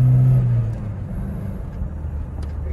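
A Chevrolet S10 Rodeio pickup with a 2.4 engine running on CNG accelerates with a low, steady engine rumble heard from inside the cabin, a brief louder hum fading early and continuous road drone after, no talking.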